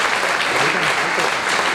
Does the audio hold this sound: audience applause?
yes